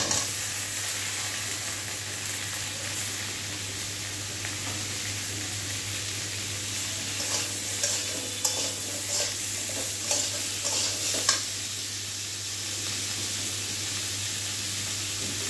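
Ridge gourd, carrot and potato pieces frying in a little oil with onions in a pan, producing a constant close sizzle and hiss, with a few light stirring scrapes midway.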